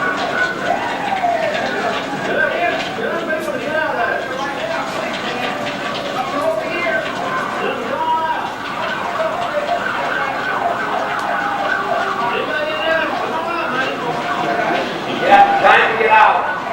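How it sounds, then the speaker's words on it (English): Fire engine sirens wail and rise and fall at a street scene during a firemen's training, with air horn blasts near the end, mixed with people talking and traffic noise. "You hear the air horns and the sirens."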